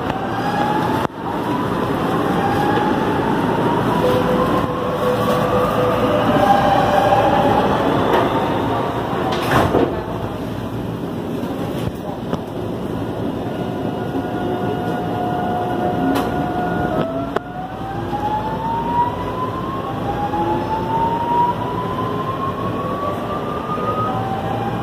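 A passenger train heading toward the Interlagos racetrack in São Paulo, heard from inside the carriage as a steady loud rumble over the rails, with long squealing, rising whines from the wheels and motors and a few sharp knocks.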